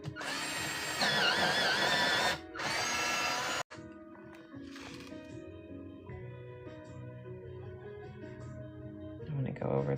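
An electric sharpener grinds a pencil at a watercolor painting session, making a loud whirring buzz in two bursts over the first few seconds. A quieter stretch follows, with faint background sounds and a voice.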